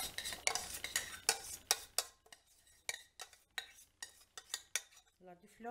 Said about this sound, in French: Là, je mélange. Je rajoute à la farce, à la pâte